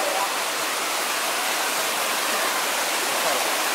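Headwaters of the Mae Kham river rush near Hua Mae Kham waterfall as a loud, steady broadband roar of flowing water that holds unbroken from start to finish.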